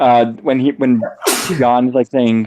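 One sharp, explosive sneeze bursts out mid-conversation during a live stream, with people talking just before and after it.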